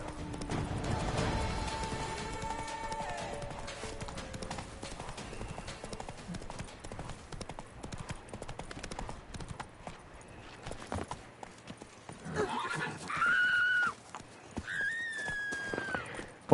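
Hooves of a horse in The Witcher 3: Wild Hunt clip-clop steadily over game sounds, loud at first and then settling, while a horse whinnies and other noises rise near the end.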